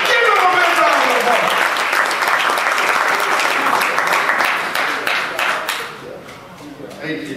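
Loud, dense crowd applause at a national convention keynote, many hands clapping close and continuous, gradually thinning toward the end.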